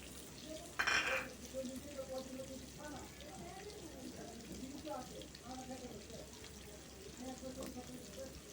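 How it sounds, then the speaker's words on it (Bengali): Koral fish frying in a pan gives a steady, soft sizzle that runs throughout, with a voice speaking over it and a brief louder burst near the start. "আমি পোয়া মাছ আর এই যে কোরাল মাছ, এ ধরনের মাছগুলো এভাবে ভাজি করি।"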